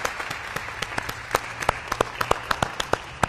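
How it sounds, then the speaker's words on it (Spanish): Scattered applause from a small group, individual claps distinct and irregular, picking up slightly toward the end. "Para ella el primer aplauso"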